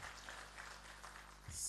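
Faint audience applause for a chief guest, a revenue minister, on a news channel's stage event in Bilaspur, soft scattered clapping that swells slightly at the very end.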